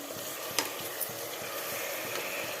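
Tomatoes and chopped coriander frying in oil while being stirred, giving a close, steady sizzle with soft scraping strokes and a couple of brief clacks.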